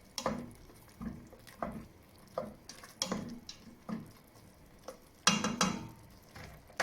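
Spoon stirring pepper-seasoned food in a pan for an Arabic dish, scraping in repeated strokes about every second, with a low sizzle between them and a louder clatter near the end.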